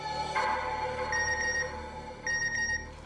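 A phone message notification ringtone in a Hindi sitcom household: two short bright chiming bursts sound close over a steady background hum, with no talk during the tones.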